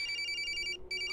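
A mobile phone rings with an incoming call in the horror game Corpse Party, a bright, repeating electronic ringtone, close and steady, cutting out briefly near the end before resuming.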